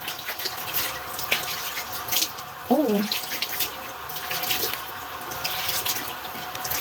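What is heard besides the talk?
running water rinsing something off in a sink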